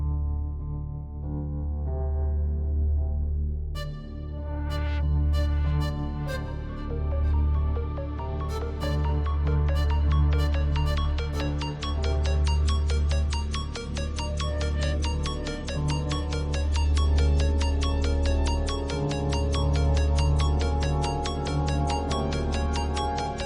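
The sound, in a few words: phone call ringing unanswered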